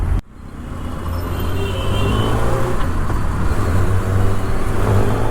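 A 2024 Kawasaki Ninja ZX6R motorcycle engine drones steadily and loudly on a ride home, with rising wind rush and a broad continuous roar and no talk.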